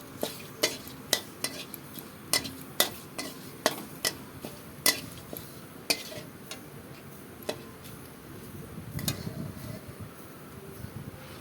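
Bay leaves and black cumin seeds heat in oil in a pan, with a series of sharp, evenly spaced utensil taps against the pan and a faint sizzle beneath, then a brief rougher stir.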